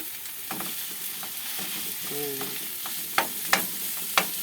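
Ground meat sautés with garlic in a pan, giving a soft, low sizzle broken by a few sharp spatula clacks and scrapes toward the end, with no talking.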